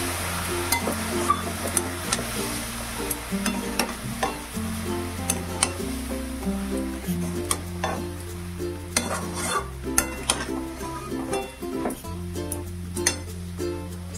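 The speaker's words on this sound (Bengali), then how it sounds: "ডালিয়াটাও এই মশলার সাথে ভালো করে একটু নাড়াচাড়া করবো।" Dahlia lentils are stirred with spices in a sizzling frying pan, a spoon scraping and clinking against the metal in quick repeated strokes over a constant fry, with faint music underneath.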